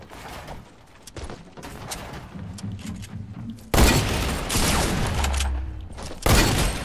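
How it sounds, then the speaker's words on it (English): Rapid volleys of hunting rifle gunshots ring out in a video game, loud sharp cracks and booms stacking into heavy bursts, with a couple of especially forceful blasts late on. "Dude, you're ripping with the hunting rifle."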